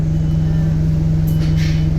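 Inside a London W19 single-route bus run from Walthamstow Avenue garage, a steady low engine drone hums on without change, close and fairly loud, with faint rattles above it.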